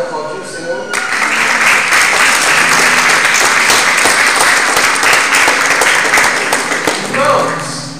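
A church congregation applauds the Lord in a sustained, loud burst of clapping that starts after a brief pause and fills the room for about six seconds before tapering as a voice returns.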